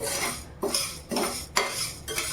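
A fasting paratha mixture stirred in a pan on a hot griddle, with four or five sharp metal scrapes and clinks of a spatula over a steady background hiss, close and fairly loud, with no talking.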